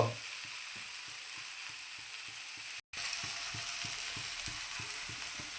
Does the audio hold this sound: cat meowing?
no